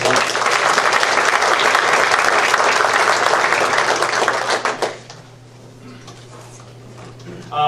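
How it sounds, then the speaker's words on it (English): Loud, dense applause from a school band concert audience for the saxophone and drum soloists fills the first five seconds, then breaks off into a quiet room with faint stray claps and small noises. "So round of applause for all those"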